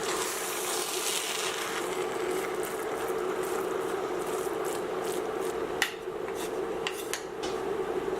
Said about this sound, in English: we're gonna mix them all together